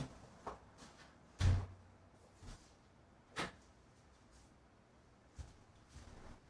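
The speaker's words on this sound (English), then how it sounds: "I'm gonna close the door most of the way." In a quiet room, a door is pushed most of the way shut. Soft, scattered thumps and light knocks sound close by, one slightly stronger bump among them, all faint against a low background hiss.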